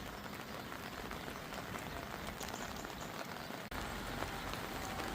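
Rain falls steadily on a riverbank during a winter fishing match on the River Mersey, a dense, even hiss of drops with a brief break partway through.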